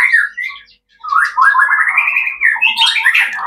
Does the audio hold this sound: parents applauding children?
no